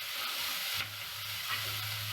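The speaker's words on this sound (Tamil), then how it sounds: "நெய் சேர்த்துட்டு நம்ம தாளிக்கிற பொருட்கள் எல்லாத்தையும் சேர்த்து கொஞ்ச நேரம் ஃப்ரை பண்ண அப்புறம் நான் 2 வெங்காயம் சேர்த்துருக்கேன்." Onions frying in oil and ghee in a pan, a soft steady sizzle with faint stirring scrapes, quiet and close with no talking.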